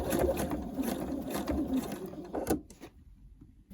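A sewing machine stitches tape onto the facing of a pair of jeans with a close, rapid, rattling hum that runs steadily and then stops, leaving faint handling sounds.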